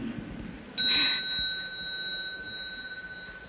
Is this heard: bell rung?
yes